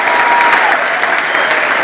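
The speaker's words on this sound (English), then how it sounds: "Clap hands for Jesus" A church congregation claps hands together, a loud, dense, even wash of applause filling the whole short moment without a break.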